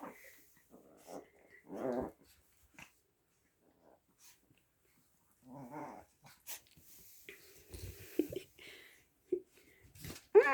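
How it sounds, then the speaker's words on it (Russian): Several dogs play together, trading short bursts of growls, whimpers and grumbling snarls between quiet stretches, close by, with a person talking faintly now and then. "Это какая-то каша из собак"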